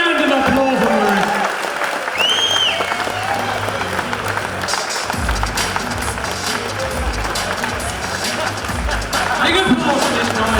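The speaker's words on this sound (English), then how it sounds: "Big round of applause for Murray." Applause from an audience at a cycling time-trial awards presentation, steady and fairly loud throughout, with a few voices and cheers mixed into the clapping.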